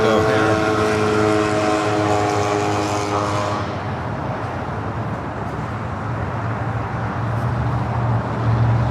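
An airliner taxis at Los Angeles International Airport, its engine a steady loud roar with a tonal whine that fades into broadband rumble, continuous and fairly close.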